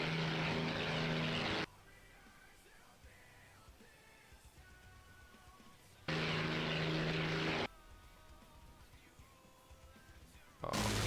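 Propeller aircraft engines in a WWII combat video game drone loudly in broad bursts that cut in and out, with quieter stretches of distant engine hum and faint background effects between them.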